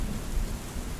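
A severe thunderstorm with rain: a brief, dense wash of low rumbling and hissing downpour, steady and fairly loud with no voices.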